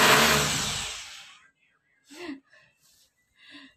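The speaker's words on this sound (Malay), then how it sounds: "Asma Piko dia pasang kipas kat sebelah." An electric fan set up nearby makes a loud whirring rush that fades away over about a second and a half, followed by quiet, breathy speech.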